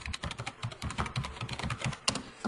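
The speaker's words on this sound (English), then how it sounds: "I'm hitting the wrong keys." Rapid clicking of computer keyboard keys being typed, near and fairly quiet, with an irregular rhythm and one sharper keystroke near the end, during a live online session searching Twitter.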